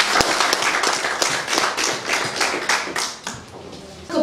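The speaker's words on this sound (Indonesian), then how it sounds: "tepukan untuk kita sekalian" A school gathering in Kupang, Indonesia breaks into brisk clapping, sharp individual hand claps riding over a dense patter that continues steadily before easing toward the end.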